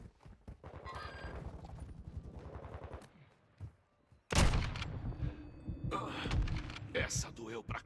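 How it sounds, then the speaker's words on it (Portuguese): Rapid gunfire from Call of Duty: Modern Warfare 2, a fast burst of repeated shots followed after a short pause by louder, denser firing and impacts, mixed with speech in Portuguese. "Estão atirando aqui!"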